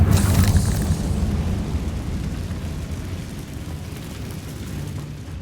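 The Confringo spell explodes in Hogwarts Legacy: a heavy blast with a sharp crackle at the start gives way to a long, rumbling decay that slowly fades.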